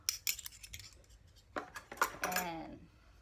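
Glass coffee mugs and two metal spoons clink and rattle as someone handles them. There are a few sharp taps first, then a denser cluster of chimes and scrapes, all close by and fairly quiet.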